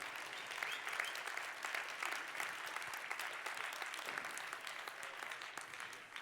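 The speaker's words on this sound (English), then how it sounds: "Please, a big round of applause for these guys." A large audience at the World Barista Championship finals in Seattle applauds the espresso machine sponsor, a steady, dense roar of clapping sustained throughout without letting up.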